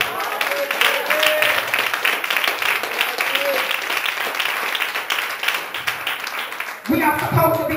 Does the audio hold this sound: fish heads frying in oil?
no